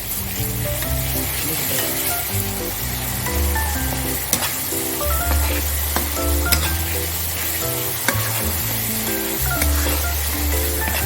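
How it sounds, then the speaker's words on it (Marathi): Ground masala paste stirred and fried in a pan for an Agri-style prawn and bombil curry, a steady loud sizzle with scraping stir strokes throughout, over background music. "तर आता आपण हे वाटण टाकलंय ते आपण ढवळून घेऊया"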